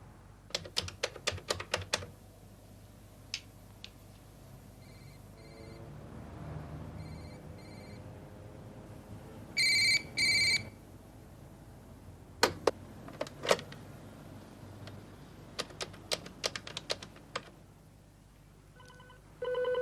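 An office telephone rings unanswered in an otherwise empty building, with repeated bursts of ringing spread through the quiet alongside some sharp ticks and clicks, heard at moderate distance without any talking.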